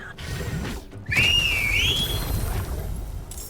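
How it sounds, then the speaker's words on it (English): Whistle sound effect in the video game Baldur's Gate 3, one clear rising-and-falling whistle about a second long over a low ambient game background. "That's a very satisfying whistle sound,"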